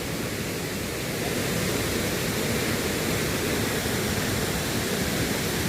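Waterfall at Heo Narok falls in a natural setting, a steady, dense broadband roar of falling water that is continuous and loud, with no voices heard.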